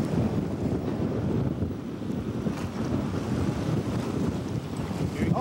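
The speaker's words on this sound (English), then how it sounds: "I wonder if people could actually comprehend how much wind we're in right now" Strong wind roars and buffets across a microphone on a fishing boat out on Lake St. Clair, a steady loud rush with water and hull noise beneath it.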